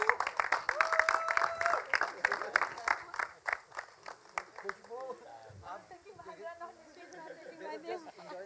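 A live audience at a 2016 movie trailer launch claps in a dense burst that thins out into scattered claps under crowd chatter, while a voice speaks over the start.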